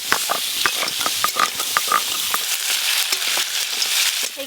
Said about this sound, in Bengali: এই কাঁকড়া আর কাঁকড়ার দাঁড়া বেশ ভালো করে ভাজা ভাজা হয়ে গেছে